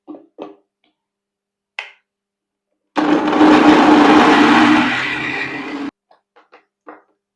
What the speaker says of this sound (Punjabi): ਗ੍ਰੈਂਡਰ ਕਰ ਲਾਂਗੇ